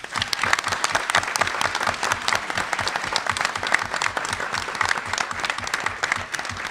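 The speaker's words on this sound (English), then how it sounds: "And let's give her a round of applause." A crowd at an RTX Austin panel gives a round of applause: dense, steady clapping from many people, loud and continuous with no voices standing out.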